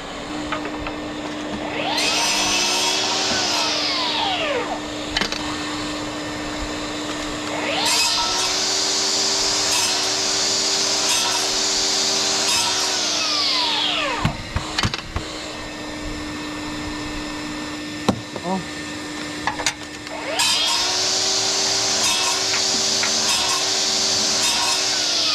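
A carpentry power tool runs with a dust extractor attached, starting and stopping in several loud sustained bursts with a steady whine and rising-falling pitch, with brief quiet gaps between runs.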